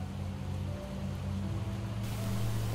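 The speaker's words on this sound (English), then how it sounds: "Oh yeah, it's raining." Rain falls steadily in the zombie survival game Project Zomboid, a soft, even hiss over a low constant hum, with no talking.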